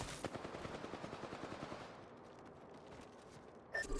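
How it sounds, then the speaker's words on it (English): Enemy automatic gunfire in a shooter video game: a rapid, rhythmic burst of quiet rattling shots for about two seconds, then a fading tail and a brief noise at the end. "The enemies are shooting at me."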